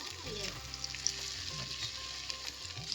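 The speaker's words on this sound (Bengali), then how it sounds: "ঠিক আছে ভাজা হোক লাল লাল করে ভাজা হবে" Chicken pieces frying in a pan for dry chilli chicken, a crackling close sizzle with small pops and occasional stirring, alone without speech.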